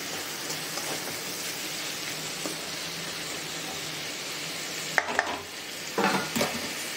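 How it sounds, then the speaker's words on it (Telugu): Tomato mixture for egg bhurji cooking on low flame in a pan, giving a steady, even sizzle and bubbling hiss throughout, with a couple of brief sharper clatters near the end. "ఇట్లా పెట్టేసి మనం సిమ్లో పెట్టేసి మగ్గనిద్దాం."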